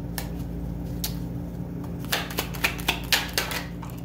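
Tarot cards being shuffled and drawn during a reading, a series of crisp clicks and snaps close up over a steady low hum, no talking.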